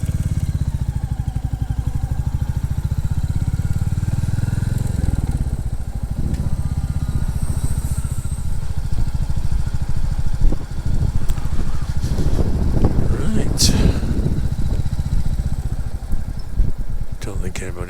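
Motorcycle engine idling and running at an RAF base café, a steady mid-pitched chug with clattering that shifts and surges toward the end, close by, with some background voices.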